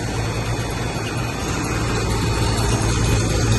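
The blower in a Carrier 10-ton rooftop unit runs steadily with a loose belt, producing a dense, loud, unbroken low drone and broadband rush that holds level throughout, with no voices.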